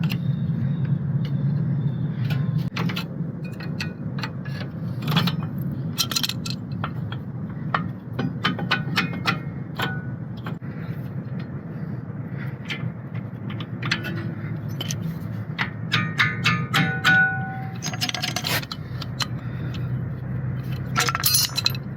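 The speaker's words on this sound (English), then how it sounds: "We're just going to try to press that cylinder back a little bit" Metallic clinks, scrapes and clicks from pressing a rear Brembo brake caliper piston back on an Infiniti G37, with irregular sharp taps over a low rumble across the whole stretch.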